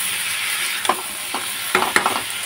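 Food frying in a home kitchen pan is stirred, with a steady sizzle under a few quick scraping strokes of the spoon, close and moderately loud, no voices.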